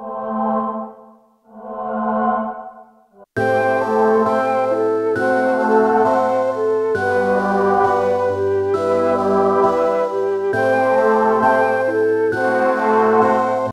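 Mellotron boys choir patch with lowered filter cutoff and heavy reverb sings soft swelling tones, then a fuller sustained chordal pad takes over with layered synth lines, steady, warm and washy throughout.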